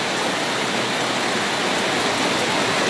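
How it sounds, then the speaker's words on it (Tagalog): Heavy rain with wind on a rainy afternoon, large drops falling in a dense, steady roar that fills the whole clip without a break and with no voices. "Lalaki ng butil ng ulan. Mahangin pa."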